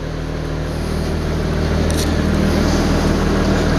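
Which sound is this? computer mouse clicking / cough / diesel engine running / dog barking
diesel engine running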